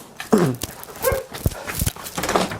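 A restless, anxious house dog makes a few close, sharp barks and yelps scattered among shuffling indoor noises, loud and irregular.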